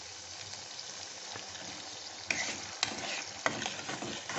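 Masala being sautéed in a pan makes a soft, close frying sizzle, with a few louder scraping stirs and splutters in the second half.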